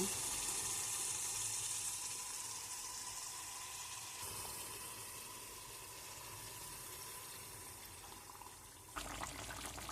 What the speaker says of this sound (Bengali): এখন আমি পানি দিলাম